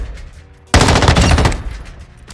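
The M13B assault rifle in the DMZ video game fires a rapid, loud automatic burst on a firing range, roughly a second of continuous shots that then tail off, with no voices.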